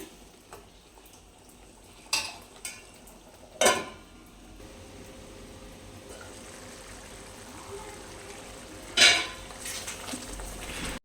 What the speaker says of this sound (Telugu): ఇలా ఎగ్స్ మొత్తం వేసుకున్నాం కదండి వీటిని కాసేపు ఉడకనిద్దాం